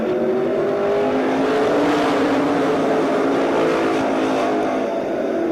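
Race cars roar around the oval at Columbus Motor Speedway during a 2010 main event, a steady dense engine drone from several cars with engine pitch rising and falling as they pass, loud and continuous throughout.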